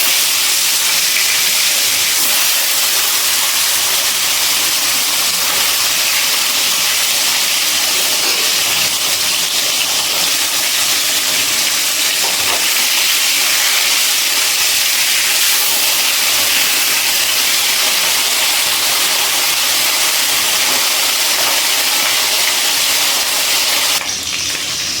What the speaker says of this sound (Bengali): এবারে বাকি 2টো মাছও একইভাবে লাল লাল করে ভেজে নেব।